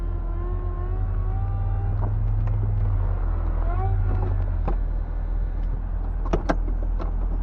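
A PT Cruiser convertible's power top motor hums and whines as the roof closes while the car rolls at about 10 mph, over a steady low engine and road drone, with a few clicks and thumps near the end.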